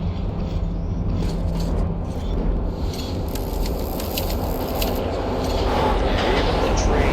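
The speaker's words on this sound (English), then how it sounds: "Even the train has a ghost." A ghost train rumbles through a tunnel in the Metro 2033 game, a loud, steady low roar with rattling, hissing texture that swells slightly toward the end and carries no voices.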